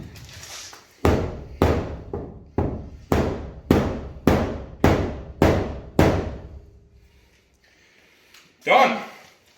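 Bare hammer pounding a dent out of a damaged Ford F-150 body panel along the body line: about nine loud, evenly spaced metallic blows, ringing briefly, followed by a short noisy scrape near the end.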